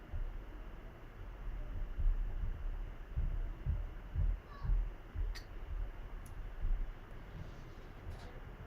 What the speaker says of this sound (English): I am aware of the sound of the air conditioning.